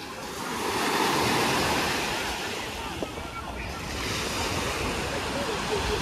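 Sea waves wash onto the shore at Cleopatra Beach in Alanya, Turkey, a steady broadband surf wash with gentle swells, mixed with wind noise on the microphone and faint voices in the background.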